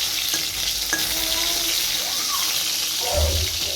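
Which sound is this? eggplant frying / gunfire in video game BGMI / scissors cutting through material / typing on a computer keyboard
eggplant frying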